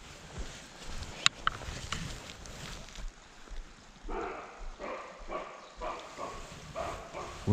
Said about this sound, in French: c'était un brocard. En train d'aboyer.